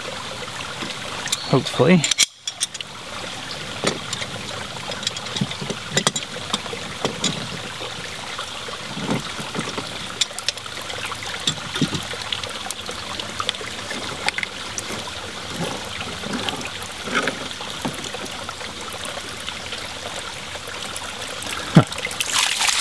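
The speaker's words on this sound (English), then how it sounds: "I'm gonna drain out the rest of this by opening up this union here." Water trickling and dribbling out of a ram pump's bucket intake through an opened pipe union, a steady splashing flow running throughout, with someone talking briefly over it.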